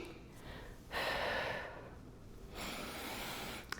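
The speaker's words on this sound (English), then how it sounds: "Ready to exhale on the way up. Inhale on the way down." Breath training exercise at a resistance workout, two audible breaths, a clear exhale then a quieter longer breath, close and soft with no talk.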